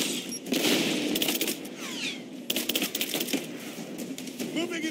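Rapid bursts of gunfire from Rise of the Tomb Raider rattle in quick clustered volleys, loud and close, mixed with clattering effects and brief gaps.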